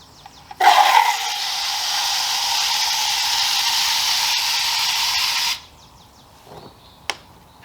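Water from a deionization wash hose with just a shutoff valve and no tip pours steadily into a cup for about five seconds, a loud, close, continuous hiss and splash that stops abruptly, followed by faint handling knocks.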